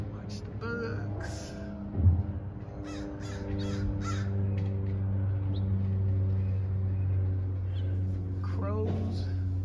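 A crow caws a few times at a distance over a steady low hum, with a person speaking intermittently nearby.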